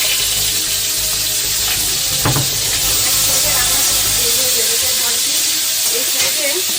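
Fish frying in a pan in a village kitchen gives a continuous loud hiss and sizzle, steady throughout with faint clatter underneath and no clear talk.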